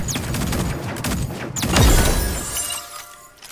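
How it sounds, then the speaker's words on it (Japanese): A burst of rapid video game gunfire cracks and clatters, swelling to a loud peak midway before fading, with no voices. "銃声よ。"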